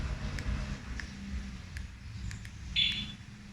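A two-way alarm fitted to a Yamaha Mio Sporty 115cc motorcycle gives short faint chirps followed by a brief louder electronic tone, over a low background rumble.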